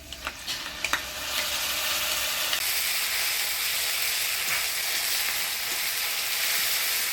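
Ground spice paste hitting hot oil with onions, a few stirring clatters and then a loud, steady hiss of frying that fills the rest of the clip, close and with no talking.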